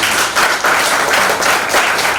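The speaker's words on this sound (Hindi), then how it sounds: "इस शख्स के लिए जोरदार तालियां" Applause from a seminar audience greeting a man on stage, a dense, steady wash of many hands clapping at close range with no voices over it.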